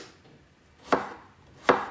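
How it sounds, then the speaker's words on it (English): An onion being cut with a knife gives two sharp, separate chops on a board, close and clear against near silence, with no talking. "Jesus, help me get through the onion cutting."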